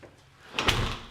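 A house door leading out to the garage opens or closes with a soft thud about halfway through, preceded by quiet room tone.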